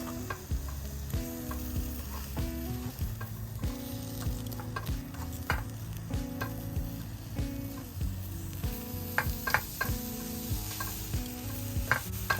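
Thin-cut venison bulgogi for Korean barbecue sizzles steadily in a hot pan, with repeated rhythmic stirring and scraping clicks over a constant frying hiss, no voices.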